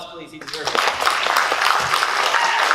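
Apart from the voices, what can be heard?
convention panel audience applause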